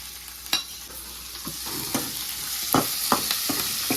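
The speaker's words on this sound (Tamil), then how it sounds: "இந்த மிளகாய் நல்லா வதங்கட்டுங்க." Chilies frying in oil in a pan for a Tamil chili kuzhambu, a constant bright sizzle broken by sharp scraping clicks of a spoon stirring every second or so.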